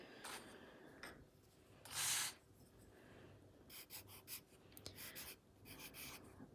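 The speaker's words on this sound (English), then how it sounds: "I've got a question that I'm going to write on my sheet." A pencil or pen writes a question on a sheet of paper, close and quiet, with scratchy strokes coming in short bursts and pauses, one longer rub in the middle.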